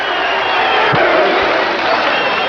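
Boxing crowd at a Las Vegas fight, a dense continuous roar of many voices with scattered shouts and cheers, steady and loud throughout.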